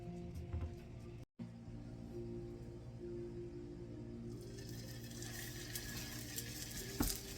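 Meatballs sear in a hot pan that has a heat bubble in its center, giving a steady, close sizzle and crackle throughout, with a brief dropout early on and a louder pop near the end.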